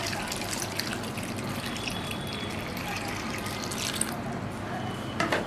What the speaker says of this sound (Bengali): আর এর মধ্যে দিয়ে দিচ্ছি পর্যাপ্ত পরিমাণ পানি সেদ্ধ করার জন্য।